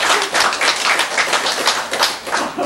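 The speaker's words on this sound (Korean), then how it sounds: "박수 쳐." Audience clapping at a Buddhist sutra lecture: close, rhythmic rounds of handclaps in quick succession, loud and steady without talk over them.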